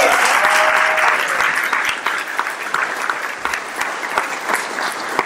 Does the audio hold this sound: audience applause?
yes